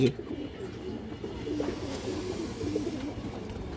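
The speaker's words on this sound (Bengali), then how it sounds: "অনেক চঞ্চল একটা খরা গলা মাদি কবুতর দর্শক" A female Khoragola pigeon coos in soft, low repeated murmurs close by, a few brief phrases over quiet background noise.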